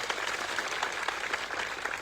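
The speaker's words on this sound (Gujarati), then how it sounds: "મીડિયા મિત્રો માટે એકવાર જોરદાર તાળીઓ પાડી લો" A crowd at a political rally in Gujarat claps continuously, a dense, even patter of many hands that carries on throughout at moderate loudness.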